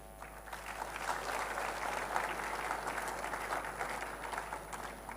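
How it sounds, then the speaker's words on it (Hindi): An audience claps steadily at a youth gathering, giving a dense, continuous round of applause that stays fairly even throughout, heard a little distantly with no talking over it. "आइए हम उनको जोरदार तालियों की गड़गड़ाहट से धन्यवाद देते हैं"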